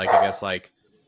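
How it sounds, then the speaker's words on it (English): A dog gives two quick, close barks in a row, then the room goes quiet. "dog was barking"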